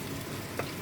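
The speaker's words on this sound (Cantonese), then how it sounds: "爆香啲蒜肉" Garlic crackles and sizzles hot in a wok, a dense, steady close frying hiss with a small clink of stirring near the end, no talking.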